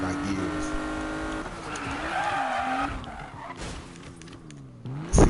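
Car engine revving and shifting gears with tire squeal while drifting in a rainy racing video game, a continuous close engine whine that rises and drops through gear changes, ending in a short loud burst.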